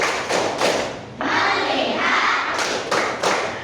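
Rhythmic classroom clapping chant, a few sharp group claps in a set pattern with short pauses, loud and close, with children's voices joining in between.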